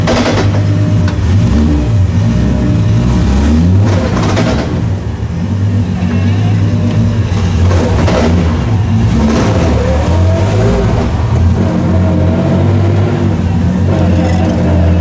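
A car engine revs hard and loud through a launch with a triple plate clutch, its roar surging and dipping in bursts, with faint voices underneath.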